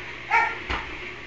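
Indoor household dogs let out a short bark followed by a second duller yip, fairly close, with quiet room noise afterward.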